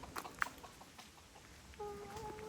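Chickens and a rooster on a farm, with faint, brief clucks heard from a distance against quiet outdoor background noise.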